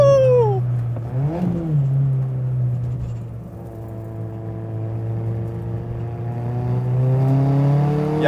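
A modified Toyota Starlet Glanza V turbo hatchback with a limited-slip differential accelerates hard, its engine note climbing through the revs, dropping at a gear change, then rising again steady and loud with no talk.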